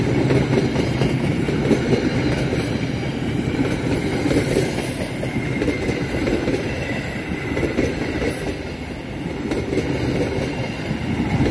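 The Malabar passenger train rumbles past Bumi Waluya station in Indonesia close by, a steady loud roar with faint clattering of wheels on rails throughout.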